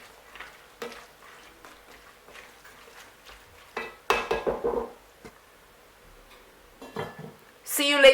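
Minced meat pie filling with chopped potatoes and carrots is stirred in a pan, giving scattered scrapes and clinks that swell into a louder clattering burst, with faint sizzling beneath.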